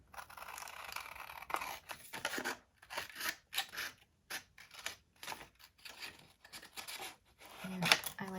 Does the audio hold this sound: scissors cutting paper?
yes